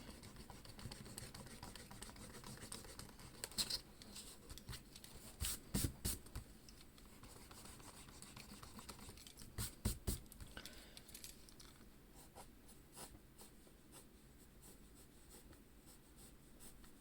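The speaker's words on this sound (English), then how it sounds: "let me erase this area" Eraser rubbing across paper to remove part of a pencil drawing, heard as faint, quick back-and-forth scrubbing strokes in irregular bursts with a few sharper scratches, close and quiet.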